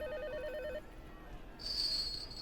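A wall-mounted telephone rings in the video game Dark Atlas, a warbling electronic trill followed by a higher sustained tone, fairly faint over a low background hum.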